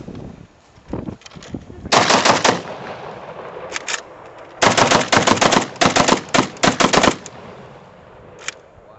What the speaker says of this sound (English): Saiga shotgun.